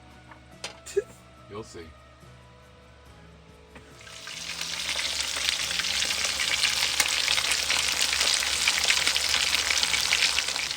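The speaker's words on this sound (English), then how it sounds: "I don't think you're gonna fry a turkey in here" Turkey cutlets fry on a camper stove inside a truck camper, and after a few seconds of quiet clatter and brief talk a loud, steady sizzle starts and fills the rest of the stretch.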